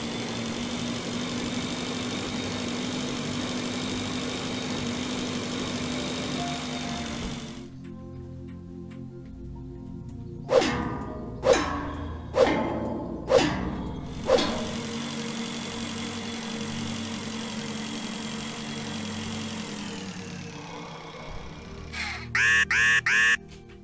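Space bike in the video game Breathedge idling with a steady low engine drone, broken midway by a run of four or five sharp ticking clicks before the hum returns; a brief burst of electronic chirps closes it.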